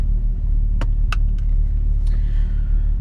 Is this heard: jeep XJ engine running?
yes